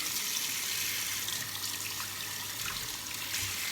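Tap water runs steadily into a sink, rinsing a homemade clay cleaning stone after scrubbing with abrasive baking soda; a continuous, fairly close hiss of flowing water with no talk.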